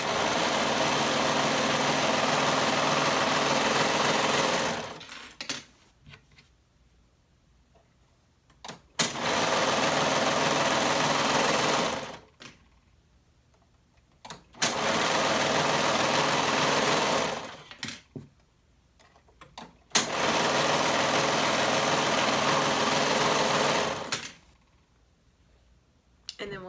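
A sewing machine stitching the center and shoulder seams of a bodice at a 1/2 inch seam allowance, running in four long steady bursts separated by quiet pauses.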